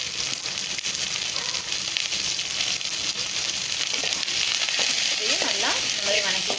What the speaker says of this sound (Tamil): இதையும் நல்லா இந்த மாதிரி வணக்கிடுங்க.